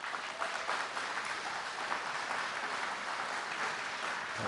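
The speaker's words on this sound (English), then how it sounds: "please hold your applause" Audience applause at a town meeting after a speaker votes against the budget: steady, fairly distant clapping from a crowded hall, holding evenly throughout.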